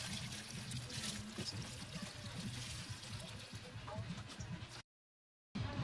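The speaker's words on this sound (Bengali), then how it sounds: "ড্রাগন গাছে জল দেবো।" Water pours onto a dragon fruit plant in a rooftop garden, a close trickling splash with a low voice murmuring underneath before a brief silent gap.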